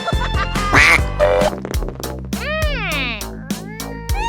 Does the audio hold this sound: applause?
no